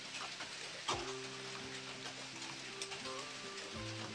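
Soybean chunks, squeezed out of water, fry in hot oil in a wok with a steady, fine sizzle and crackle, with a few louder pops and tonal hums from the stove or room underneath.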